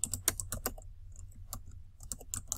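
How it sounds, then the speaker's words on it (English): Typing an email address on a computer keyboard: quiet, close, irregular bursts of key clicks with a short pause in the middle. "you're going to need to type in the email address again"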